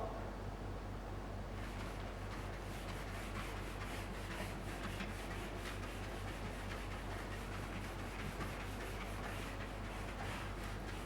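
An eraser rubbing writing off a classroom board, a steady scrubbing with quick repeated back-and-forth strokes, close and continuous throughout.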